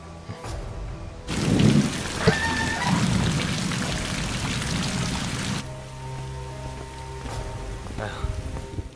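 Heavy rain suddenly starts pouring, a dense roaring downpour that runs for several seconds and then cuts away to quieter rainfall with soft voices.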